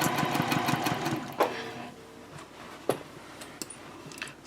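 A sewing machine runs a straight 1/2 inch seam at a 2.5 stitch length on a Swoon Frankie handbag tote, a steady close whir that stops partway through, followed by a few faint clicks and handling sounds.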